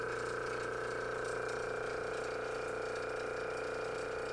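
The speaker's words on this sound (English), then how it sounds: "you're going to want to make sure you leave the vacuum on." The vacuum pump of a screen-printing exposure unit runs with a steady, constant mechanical hum and hiss, unchanging throughout, with no talking.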